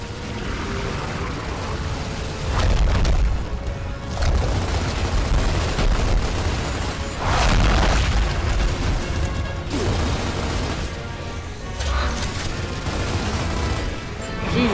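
Heavy combat in Gears of War Ultimate Edition: repeated bursts of gunfire and booming impacts, loud and dense, swelling in waves over a constant rumble of battle.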